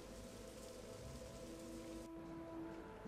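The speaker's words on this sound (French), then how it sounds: "Bon, il pleut, c'est pas très jojo ça." Steady rain in Morrowind, set in the town of Caldera: a dense, continuous hiss of falling drops under a faint low tonal hum, with no voices.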